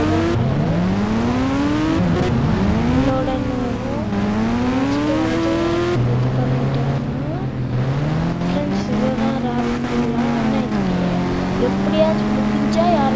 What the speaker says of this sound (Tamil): Indian bikes drift bike